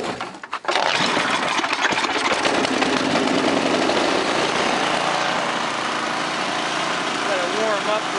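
Craftsman 10/30 snowblower engine running steadily and loud after starting, a continuous small-engine drone that holds level throughout, with a brief sputter at the very start.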